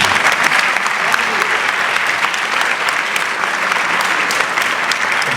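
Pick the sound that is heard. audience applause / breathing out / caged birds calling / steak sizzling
audience applause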